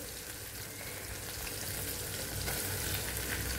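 Ground masala paste (vaatan) tipped into hot oil in a pan for a drumstick vegetable curry, a steady, dense sizzle and spatter close up throughout, with no talk.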